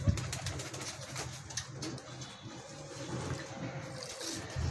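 Domestic pigeons coo in a keeper's loft, giving soft, low, rounded calls that repeat at an uneven pace and sit close by but quiet, with some faint shuffling around them and no talking.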